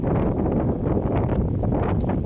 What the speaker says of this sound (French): Il y a beaucoup de vent encore une fois